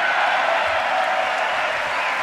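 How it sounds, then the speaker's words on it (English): Audience applause following a speech by Netanyahu, a steady dense wash of clapping from a large crowd, loud and continuous throughout. "the half of the speech was clapping"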